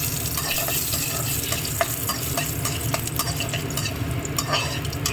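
Mustard seeds, chana dal, urad dal and a little cumin sizzle and crackle steadily in hot oil for a beetroot poriyal tempering, with dense frying hiss and scattered pops throughout.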